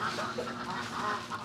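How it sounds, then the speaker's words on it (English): A male muscovy duck on a farm breeding ducks by artificial insemination gives a steady run of raspy, hissy calls lasting the whole short stretch, fairly close and alone with no talk. "Yes, this is a male muscovy."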